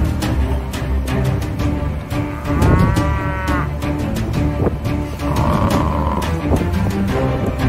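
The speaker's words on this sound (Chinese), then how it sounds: "看看水牛群反杀回来了啊" Buffalo herd lowing and bellowing as it fights back against lions at a waterhole, with deep moos and a roar rising over a dense, continuous mix of animal calls, loud and close.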